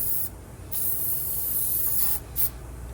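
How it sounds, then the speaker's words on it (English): Short bursts of silicone aerosol spray hiss close by, one longer burst followed by a couple of quicker sprays. "This silicone spray, that's silicone RTV and all that other stuff."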